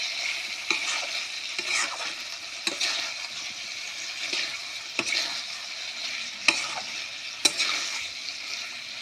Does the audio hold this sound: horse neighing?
no